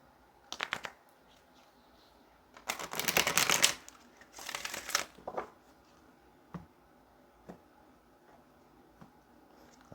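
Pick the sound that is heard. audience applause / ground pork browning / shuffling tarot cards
shuffling tarot cards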